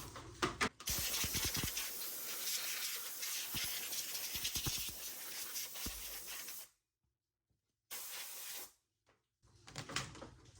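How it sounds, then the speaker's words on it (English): Bursts of compressed air hiss loudly in long blasts as dust is blown off a model car, with brief pauses and a final short burst after a gap of silence. "So before we do that, I'm going to blow off the car."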